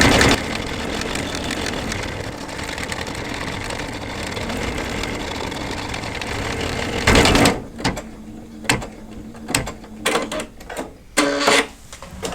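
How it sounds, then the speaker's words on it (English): Embroidery machine stitching a letter G in black thread on an in-the-hoop coin purse, a steady mechanical hum that gives way to a rapid series of separate clicking, whirring bursts with short pauses between. "I put black on black thread in the machine and I'm going to stitch the G."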